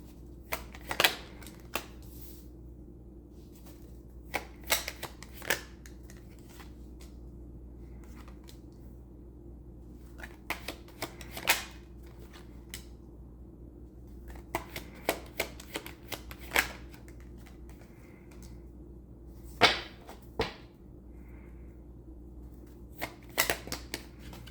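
Tarot cards are shuffled in quick riffling bursts with quiet pauses between, close and fairly soft, with no talking.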